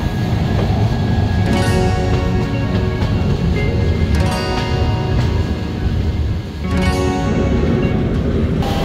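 The Mumbai Mail passenger train runs on its route from Kolkata toward Amarkantak in the monsoon, producing a steady, loud rumble with several brief clattering bursts and no voices over it.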